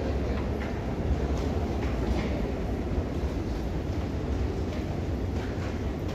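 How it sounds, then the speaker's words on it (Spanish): A Lima Metro Line 2 train pulls out of the station, a steady loud rumble of rolling cars and wheels on the track, heard alone on the platform. "Y se va el tren."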